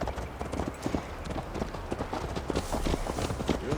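A horse gallops while being ridden in Assassin's Creed Valhalla, its hooves clip-clopping in a fast, steady rhythm up close for a few seconds, with faint voices in the background.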